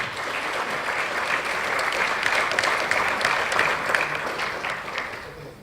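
Steady, full round of audience applause for panelists at a Mexican dialogue session on evaluating federal resources. Many hands clap evenly for nearly six seconds with no let-up.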